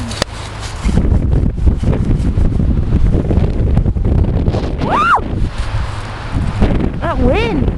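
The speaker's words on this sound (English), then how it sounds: "That wind." Strong outdoor wind buffeting and roaring across the microphone throughout, with rustling and a couple of brief whistling squeaks, while a family cuts down their Christmas tree; no voices clearly in the foreground.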